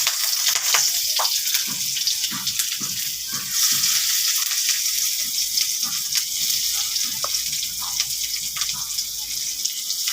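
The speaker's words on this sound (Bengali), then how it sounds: "আমি এই কাটা পেঁয়াজগুলো দিয়ে দিব।" Chopped onions frying in a pan, a continuous loud sizzle with bursts of scraping and stirring throughout, close by, with a voice speaking faintly underneath.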